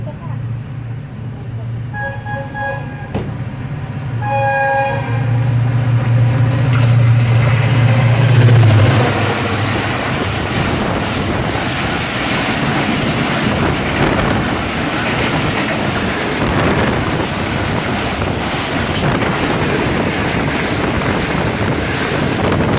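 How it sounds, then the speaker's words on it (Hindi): Sir Syed Express overtaking at speed on the main line in Pakistan: a horn sounds in short blasts, then a loud, sustained rumble and rushing clatter of the passing train, with heavy wind buffeting the microphone. "सर सैयद एक्सप्रेस तो हमें यहाँ से काफ़ी अच्छा ओवरटेक करते हुए निकल चुकी है"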